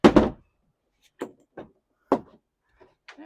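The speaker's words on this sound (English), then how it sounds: "Close this door." Door on a 2024 Yamaha 252SD boat shutting, one sharp close thump followed by a few lighter clicks and knocks with silence between them.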